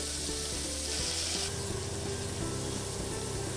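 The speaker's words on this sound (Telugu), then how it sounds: "ఉల్లిగడ్డ లైట్గా వేగాలి" Onions frying lightly in a pan for methi dal, a steady, quiet sizzle with faint stirring throughout and no talking.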